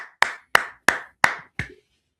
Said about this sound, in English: let's clap it up. Can we clap it up?